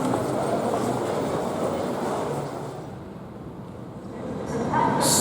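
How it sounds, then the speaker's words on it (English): Southeastern high-speed Javelin train pulling into a platform at Stratford International Station, a rumbling rolling roar that eases down mid-clip, then swells again with a brief squeal near the end. "Stopping into platform 2 is a jazzed up javelin with a poppy on it."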